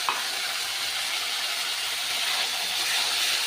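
A paste of ground ginger, green chili and tomato sizzles steadily in a hot pan while cooking potato alur dom, a loud continuous frying hiss with no talking.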